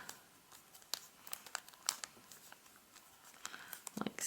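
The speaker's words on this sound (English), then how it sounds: "Just going to fold it up and like lining this along here when we're making the fold." Origami paper being folded and creased up close, soft crinkles and sharp rustling taps coming in irregular bursts, faint and quiet throughout.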